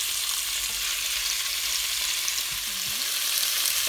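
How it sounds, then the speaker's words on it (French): Pork with onions, garlic and a little sugar searing in a cast-iron casserole pot, giving off a steady, even sizzle throughout. "on va attendre que ça grille bien, parce qu'il y ait un petit peu de sucre"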